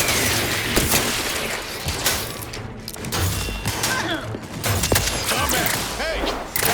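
Rapid gunfire and impacts during combat in the video game The Outer Worlds 2, bursts of shots and thuds in a busy, layered mix with some voice activity.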